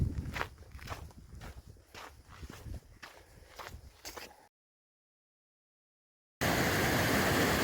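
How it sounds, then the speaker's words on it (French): Footsteps crunch along a trail beside a small mountain stream in the Sierra on the Pacific Crest Trail, steady paced steps over a soft water rush, then a gap of silence and a loud burst of rushing water. "Premier petit ruisseau à traverser à la Sierra"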